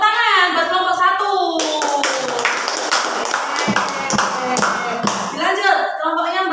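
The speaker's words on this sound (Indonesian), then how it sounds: "Tepuk tangan buat kelompok 1." Classroom applause for group 1, a burst of hand clapping that rises mid-way and tapers off, framed by a teacher's voice speaking before and after.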